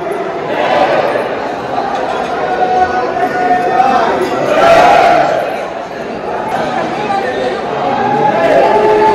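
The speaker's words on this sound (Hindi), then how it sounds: "तो गाइस भीड़ तो है" A dense crowd of devotees at the Khatu Shyam temple murmurs and chatters all around, a steady loud mass of overlapping voices with occasional louder calls rising above the din.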